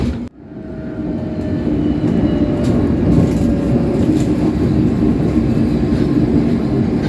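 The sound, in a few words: London Underground train on Uxbridge branch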